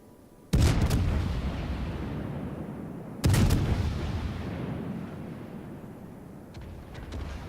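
Naval guns fire in World of Warships: two heavy booming salvos a few seconds apart, each a sharp loud blast trailing into a long rumbling decay, with faint distant pops near the end.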